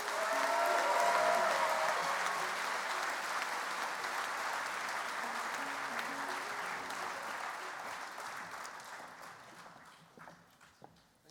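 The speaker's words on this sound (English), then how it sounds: "Please join me in giving our VIP citation recipients, Mr. Leo Schwartz and Mrs. Sharon Schwartz, another round of applause." Large convention-hall crowd at a state FFA convention applauds honorees, a dense sustained roar of clapping that holds for several seconds and then thins out and fades near the end.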